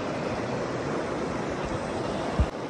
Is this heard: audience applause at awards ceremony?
no